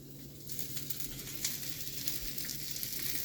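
Cheese sizzling in a hot pan while a quesadilla cooks, a steady close crackling fry with scattered small pops and no talking.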